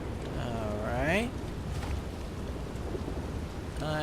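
Steady rain hiss with a low rumble of thunder accompanies fishing in the video game Elder Scrolls Online, while someone talks over it at moderate level.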